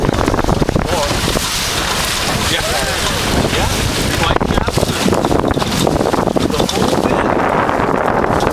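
A sailboat slaps through water under strong wind, with loud, constant wind buffeting the microphone and rushing spray and splashing close by, while people talk over the roar.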